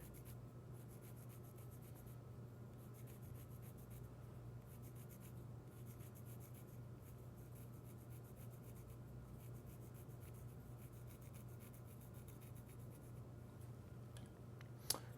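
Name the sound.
pencil marking around the edge of a spinning wooden box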